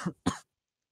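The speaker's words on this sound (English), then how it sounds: "This is that one disembodied voice that keeps coughing in the" A person coughs twice in quick succession, short hacking bursts that sound slightly throaty, coming faintly over a voice chat line in the background before falling silent.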